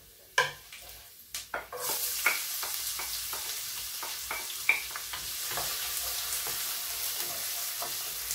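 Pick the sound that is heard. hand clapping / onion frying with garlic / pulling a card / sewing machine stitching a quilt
onion frying with garlic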